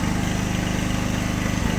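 EDON 3300 portable generator running after a small modification, a close, steady pulsing engine drone with a rapid regular beat that holds evenly throughout the short clip.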